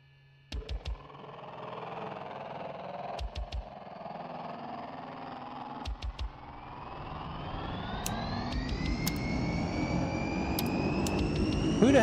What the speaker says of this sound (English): Who the hell is starting my airplane up?